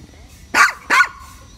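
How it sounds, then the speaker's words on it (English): A dog barks twice at a cat, close and loud, in quick succession. "keep barking at the cat"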